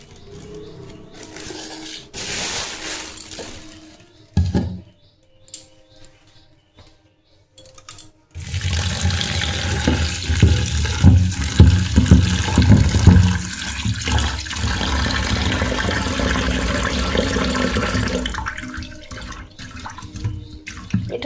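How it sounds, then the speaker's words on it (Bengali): Tap water runs steadily while soft flattened rice (chira) is rinsed in a kitchen, a loud continuous splashing rush after a quieter stretch of clatter and handling. "এটা নরম চিড়ে, বেশি ধোয়া যাবে না, গলে যায়।"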